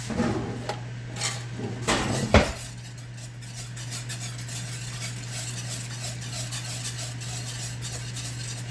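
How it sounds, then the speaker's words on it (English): A metal whisk scrapes and clanks inside a cast iron pan, several sharp strokes early on, then a softer sizzle with a steady hum underneath. "I can use this whisk that I never use because it's metal"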